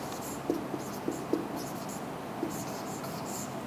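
Hand writing out a definition for a class 9 mathematics lesson on matrices, with a few soft scratchy pen strokes and taps, close but faint against steady room noise.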